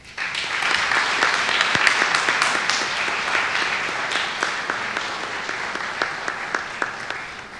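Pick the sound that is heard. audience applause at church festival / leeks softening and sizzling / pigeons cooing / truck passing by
audience applause at church festival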